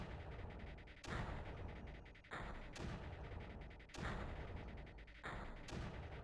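Mortar fire in the Creeper World video game, heavy booming blasts that land at roughly one-second intervals over a steady, rumbling background wash, distant-sounding and moderately loud with no talking.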